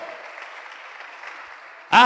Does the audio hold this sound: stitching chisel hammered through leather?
no